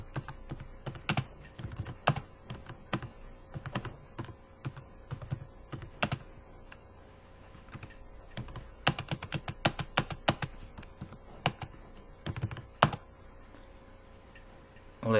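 C++ code is typed on a computer keyboard in sparse, irregular bursts of close, quiet key clicks, with quick clustered runs separated by pauses and no talking.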